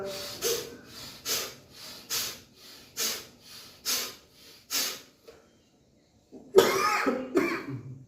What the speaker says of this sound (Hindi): देखो खांसी आई